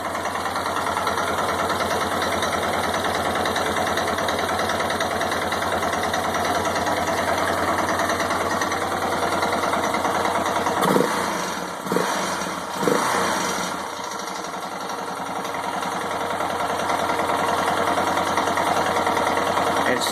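A 1990 Yamaha XT 600 motorcycle engine idles steadily up close with an unwanted mechanical noise in its running, a continuous drone with a few brief dips and blips around the middle.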